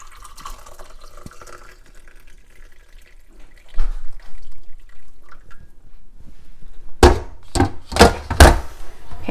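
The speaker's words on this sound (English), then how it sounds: "and I'll pour off some of the juice." Pork cooking juice poured off from a pot of pulled pork, quiet handling and faint trickling at first, then louder splashing gushes of liquid in several pulses near the end.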